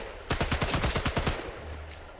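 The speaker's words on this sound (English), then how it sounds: "This SMG could do some damage." Sniper Elite 5 submachine gun fire: a rapid burst of about ten sharp, loud shots in quick succession, followed by a short fading echo and quiet ambience.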